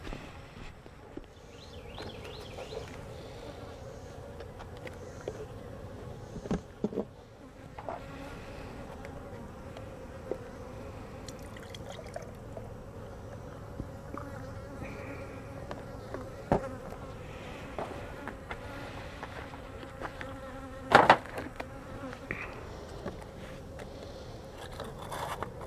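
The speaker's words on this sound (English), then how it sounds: "See all these bees flying around here?" Bees from other hives buzz around an open beehive outdoors, a steady near-and-far drone of many insects with occasional louder passes close by and faint scrapes and footsteps.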